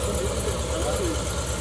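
A car engine runs after repair, idling with a steady, low, rhythmic throb and broad mechanical noise that holds constant at moderate volume.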